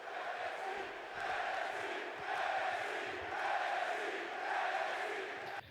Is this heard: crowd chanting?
yes